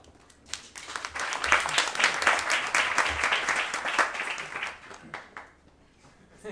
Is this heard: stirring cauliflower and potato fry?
no